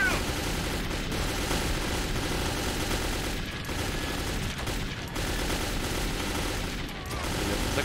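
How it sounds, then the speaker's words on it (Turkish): Dense, continuous gunfire from Metro 2033 Redux, a steady wall of shots with brief lulls, loud throughout with no talk over it. "Neyse ben boşa mermi sıkıyorum şu anda,"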